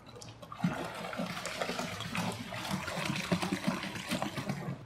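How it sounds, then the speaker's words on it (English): Water at 18 degrees pours into homebrewed wort for a Pirate's Wife IIPA extract batch, topping it up to 23 litres; a steady splashing, gurgling stream runs continuously at moderate loudness, with no voices. "we're just going to top it up to 23 litres, which is around about there, with some 18 degree water."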